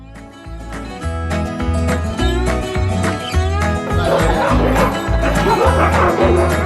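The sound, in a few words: Alaskan Huskies barking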